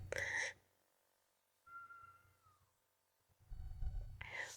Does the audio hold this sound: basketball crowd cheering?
no